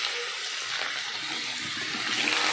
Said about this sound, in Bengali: এবার আমি এর মধ্যে একটু জল দিয়ে দেব।